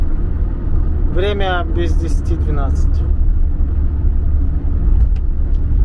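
Steady loud road rumble from a car travelling fast, heard from inside the cabin, with someone talking briefly over it early on.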